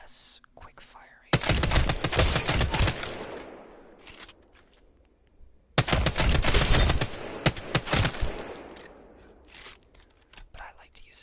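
The R-301 rifle in Apex Legends fires in automatic mode in the firing range. Two loud, sustained bursts of rapid gunfire each ring out for a few seconds, with quiet gaps around them.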